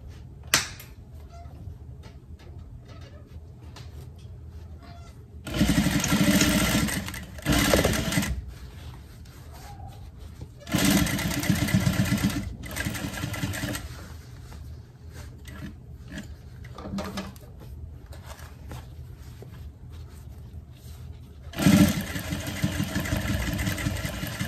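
A sewing machine stitches fabric for a skirt in several short bursts of rapid mechanical whirring, separated by quiet pauses, close and fairly loud.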